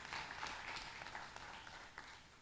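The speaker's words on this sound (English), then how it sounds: "Let's give him another round of applause." Audience applause at a night-time murti consecration festival celebration, a steady wash of many hands clapping throughout, moderately loud and fairly distant, with no voices over it.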